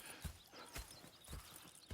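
Horses' hooves clip-clop in Red Dead Redemption 2, with sharp, evenly spaced hoof strikes about every half second over a soft, busy background.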